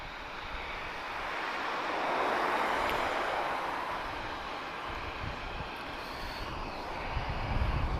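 A heavy jet at Lisbon Airport, a broad distant rushing roar that swells to a peak and slowly fades, steady and moderately loud with no talk.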